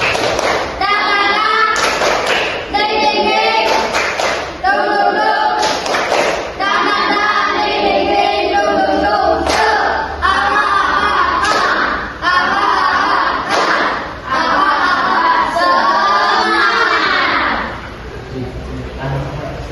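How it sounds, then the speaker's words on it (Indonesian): A primary school class of children performs a rhythmic spirit clap in the classroom, repeated bursts of clapping and thumping in a steady pattern with children's voices chanting along throughout. "Tepuk semangat"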